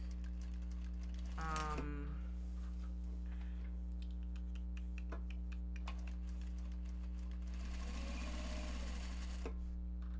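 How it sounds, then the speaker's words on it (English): A sewing machine top-stitches a bag made of Japanese fabric in short bursts of rapid needle clatter over a steady low electrical hum, with brief pauses and small clicks between runs. "we're going to go back in and chain piece these again, and then we're going to sew any black"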